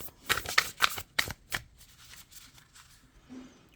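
A tarot deck is handled as the last card is drawn: a quick run of crisp papery flicks and snaps close by, then quieter rustling.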